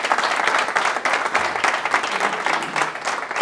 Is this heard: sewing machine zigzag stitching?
no